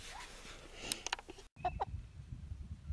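Chickens in a yard give a few short clucks and a faint call at moderate distance, scattered over light background noise.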